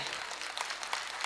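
An audience applauds performers at a cultural evening, dense sustained clapping at a steady level throughout.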